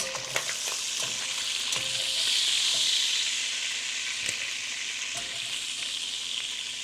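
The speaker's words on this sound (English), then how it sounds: "Because I want to brown the sausage well." Sausage browning in a frying pan, a continuous close sizzle that swells briefly, with a few light utensil taps and scrapes and no voices.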